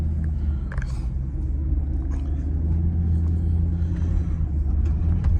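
A 2003 Mercedes SL500 with its engine running while it circles around and pulls into a garage, a steady low rumble close by with faint clicks and knocks on top.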